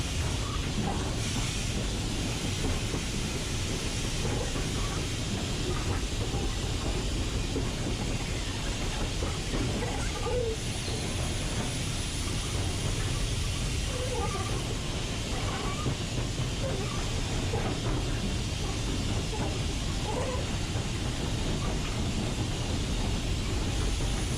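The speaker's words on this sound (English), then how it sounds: "As we're still travelling downhill, Steve consistently rubs the brake to keep the train under control" Steam locomotive 44871 rolling downhill with its brake repeatedly applied, a steady broadband rumble and hiss of the engine and train running continuously throughout, with faint rattles from the footplate.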